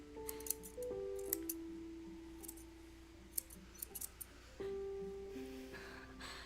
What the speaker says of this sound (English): Rusty scissors.